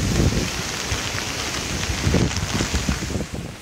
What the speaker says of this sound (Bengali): কিন্তু প্রচুর বৃষ্টি হচ্ছে।